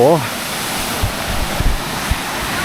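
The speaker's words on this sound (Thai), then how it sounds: "น้ำตกแบบสูงมาก" A very tall waterfall in Thailand roars with a steady, broadband rush of falling water, loud and continuous, with a brief voice at the start and a few faint low thumps.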